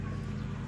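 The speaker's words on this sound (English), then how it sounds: "As you can hear our rooster over here." Rooster and chickens close by on deep bedding, with clucking and a brief crowing call over steady low background noise.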